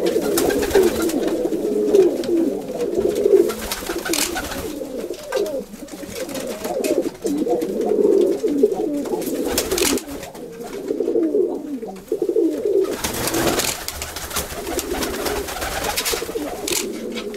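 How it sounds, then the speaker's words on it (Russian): Pigeons coo close by in repeated soft, throaty bursts of rolling calls with short pauses between them, with no voices over them. "Ой, хорошие мои голуби."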